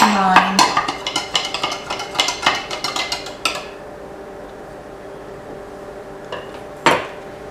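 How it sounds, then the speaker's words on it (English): A butter knife scrapes and clinks quickly around a cup as sugar is stirred into coffee, a run of bright rhythmic taps that stops abruptly, then one last knock after a short quiet stretch. "So I'm going to take a butter knife and just stir this up a little bit because I don't want my sugar clumping."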